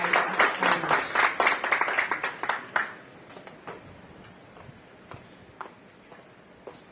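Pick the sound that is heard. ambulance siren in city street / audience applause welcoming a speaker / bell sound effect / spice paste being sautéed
audience applause welcoming a speaker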